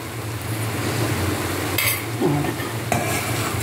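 Broad bean (avaraikkai) curry with coconut cooks in a pan, a constant close sizzle with occasional scraping stirs and light utensil knocks, no voices.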